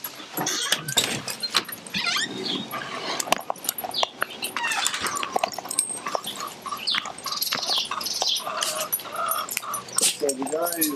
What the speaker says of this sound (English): Killer doggies.